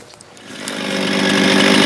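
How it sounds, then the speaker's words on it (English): A chainsaw engine revs up and steadily rises in pitch and loudness, growling close by as it bites into wood while cutting out an axe handle. "I'm using the chainsaw now."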